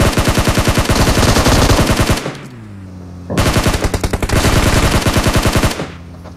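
Loud, rapid automatic gunfire in PUBG, two long bursts of fast rhythmic shots separated by a short pause with a fading tail, then a final burst trailing off.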